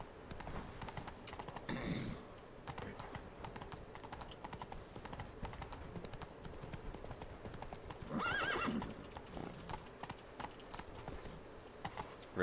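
Horse hooves clip-clop steadily in The Witcher 3 video game, with two loud whinnies breaking through at intervals over continuous gameplay ambience.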